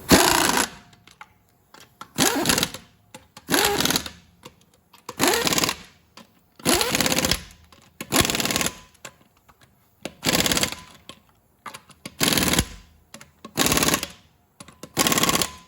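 Lug nuts being run onto a Dodge Ram rear wheel with a power tool, heard as about ten short loud rattling bursts spaced roughly a second apart, each a clattering buzz, with quiet gaps between.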